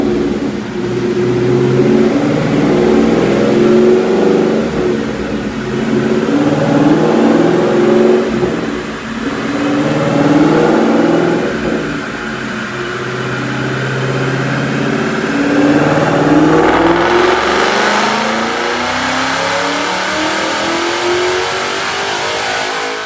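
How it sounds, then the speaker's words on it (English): Supercharged 2012 Ford Mustang GT with a Coyote engine, Edelbrock E-Force supercharger and Kooks headers, revving on a dyno: a loud, close sustained pull with engine pitch climbing steadily through the gears and supercharger whine rising toward the end. "Check out this dyno pull."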